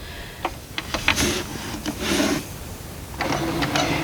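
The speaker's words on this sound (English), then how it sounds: "free motion quilting on a tabletop. Tabletop quilter system." Tabletop quilter system running a sewing machine for free motion quilting: steady mechanical whirring that starts and stops in several short runs, close and fairly loud with no talking.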